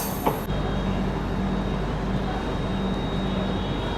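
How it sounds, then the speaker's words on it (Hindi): The Begampura Express overtakes on the next track beside a halted passenger train, making a continuous loud, broadband rumble and rattle that holds steady after a brief knock at the start. "अब बेगमपुरा भी ओवरटेक मार के निकल रही है।"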